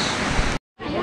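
Steady rain pouring down under a dark sky, a dense even hiss that fills the clip, cuts out briefly to silence, then returns.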